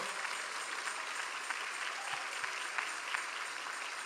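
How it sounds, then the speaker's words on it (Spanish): Congregation applauding in a church service, a steady dense wash of many hands clapping at moderate distance, sustained without pause throughout. "Dele un aplauso al Señor."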